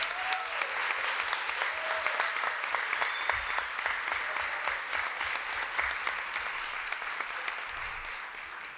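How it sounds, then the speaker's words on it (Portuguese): Steady, dense applause fills a formal award ceremony in a hall as the crowd honours the mother of an honoree, clapping evenly for several seconds at moderate distance. "Vamos agora uma salva de palmas especial a Elci Leopoldina"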